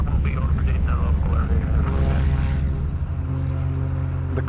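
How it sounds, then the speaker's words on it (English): A propeller airplane idles before departure, its steady engine drone and buzzing prop filling the scene up close, with a voice talking over it. "You've got to go up in a plane."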